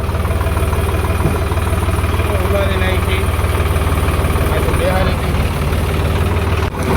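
A tractor engine idles close by as a low, steady rumble and vibration that runs the whole time, with a voice speaking briefly over it.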